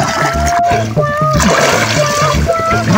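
Water splashes as someone dives in on a hot summer day, with young voices talking and calling out loudly over the churning water.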